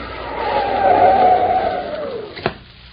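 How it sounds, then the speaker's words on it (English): A car brakes hard and skids on a snowy road, a loud sustained tire squeal that rises and fades over about two seconds, ending with a brief thump. "Mike had to slam on his brakes so that he wouldn't run over him."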